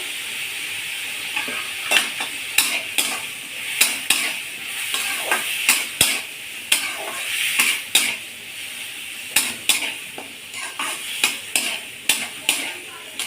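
A spoon stirs hilsa fish-bone mustard curry with salt and turmeric in a pan, scraping and clinking in repeated strokes over a steady close sizzle.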